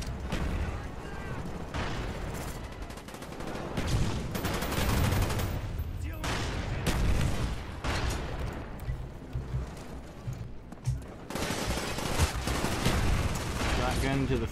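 Repeated gunfire in the first-person shooter Black Ops 1 multiplayer on PC, including shotgun blasts, comes in dense loud bursts and volleys that run through the whole stretch with hardly a pause.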